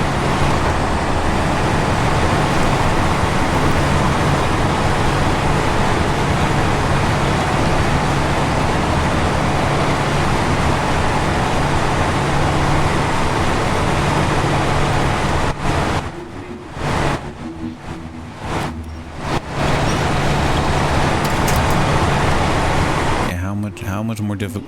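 Vehicles drive in the off-road truck game Snowrunner, giving a loud, steady engine and road roar that drops out in short gaps near the end.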